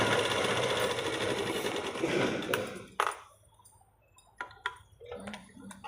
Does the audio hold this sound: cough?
no